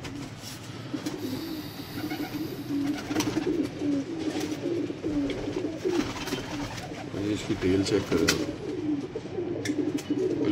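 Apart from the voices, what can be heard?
Sialkoti pigeons cooing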